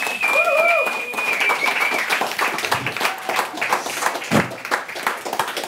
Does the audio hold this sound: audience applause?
yes